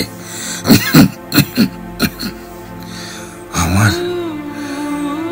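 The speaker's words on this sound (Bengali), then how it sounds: "কাশিটাও বেড়েছে" A feverish man coughs in a rapid run of harsh, close bursts, then lets out a drawn-out strained groaning breath.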